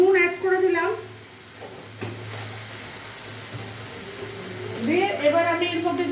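Steady sizzle of kharkol (taro) leaf paste frying in a pan while it is stirred, with salt and turmeric added, running continuously beneath someone speaking at the start and end.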